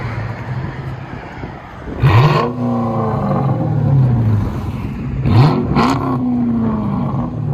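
A 2006 Chrysler 300C with a 5.7L Hemi and Dynomax Race Bullets dual exhaust revs twice, each a loud, close blip that snaps up and falls back to a deep, rumbling idle.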